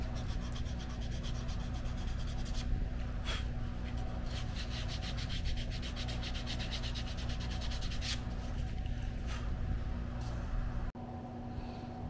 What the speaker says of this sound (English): I'm going to sand all these pieces just like this